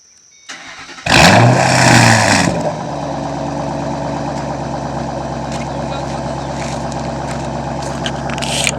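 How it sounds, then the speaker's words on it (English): A car engine with an MBRP axle-back aftermarket exhaust cranks and fires with a loud, deep roar that surges, then settles into a steady, rumbling idle from the throaty exhaust, recorded up close. "here's going to be the startup of the car"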